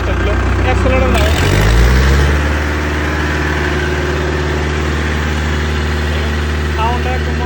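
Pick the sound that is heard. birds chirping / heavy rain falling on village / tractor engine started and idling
tractor engine started and idling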